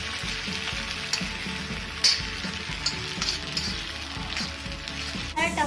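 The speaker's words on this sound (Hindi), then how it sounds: "टमाटो और प्याज को अच्छे से भूनेंगे जब तक इसमें ऑयल नहीं।" Chopped tomatoes and onions fry in oil for Uttarakhand-style bhat ke dubke, giving a steady close sizzle with a soft rhythmic stirring pulse underneath and a few faint clinks.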